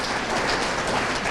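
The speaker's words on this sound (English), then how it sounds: "Please do one more big round of applause" Brief, dense applause from an audience at an award ceremony, a continuous close wash of clapping with no gaps and no voices over it.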